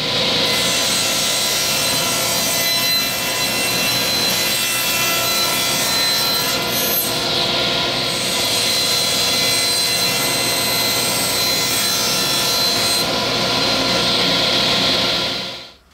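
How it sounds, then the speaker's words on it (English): A saw cuts through a piece of plywood with a continuous, rasping, close-up whine, briefly easing around the middle before carrying on and then stopping abruptly at the end. "I'm going to cut a piece of plywood that's going to be 10 inches by 11 inches"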